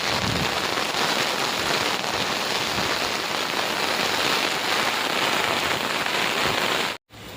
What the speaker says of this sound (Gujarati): હજી વરસાદ તો અમારે ધીમો ધીમો ચાલુ જ છે